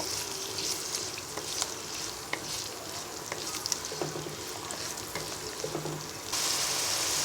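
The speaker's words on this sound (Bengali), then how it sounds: "এবার পেঁয়াজ কটাটাকে হালকা ভেজে নিব" Chopped onions fry lightly in a pan for a tomato hilsa gravy, giving a soft, even sizzle with scattered small pops and crackles. The sound grows brighter near the end, with no talking.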